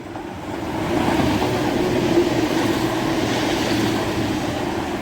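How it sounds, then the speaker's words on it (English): A ScotRail Class 170 diesel train passes through North Queensferry station with a steady, broad rumble that swells and holds at moderate distance, without voices. "Passing through is a ScotRail Class 170 on the 1L51 from Edinburgh Waverley to Arbroath."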